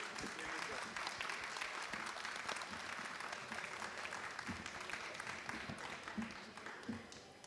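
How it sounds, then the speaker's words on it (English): Steady applause from a festival audience, continuous clapping heard at moderate distance and fairly quiet, with scattered voices beneath it. "Please give them a moment of applause."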